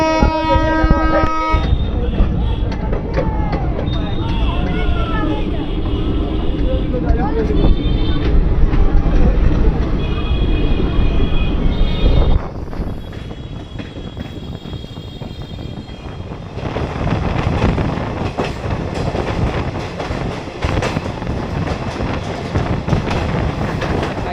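Tebhaga Express, a crowded Balurghat–Kolkata passenger train, rumbles along the rails with a steady loud roar, a horn-like tonal stretch early on, then a quieter rattle that swells again toward the end.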